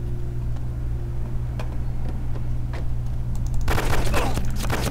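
Scattered gunshots crack out in Arma 2 on a Takistan Life cop patrol, sparse and fairly distant at first, then a denser, louder burst near the end over a steady engine-like drone.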